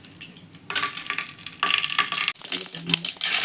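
Mustard seeds hit hot oil in a kadai and crackle into a brisk sizzle, with a bright fizzing hiss that swells after the first second and keeps popping, set during preparation of capsicum lemon rice.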